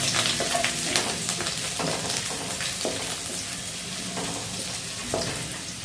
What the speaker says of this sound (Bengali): তো আদা রসুনটা একটু হালকা ভেজে নেব।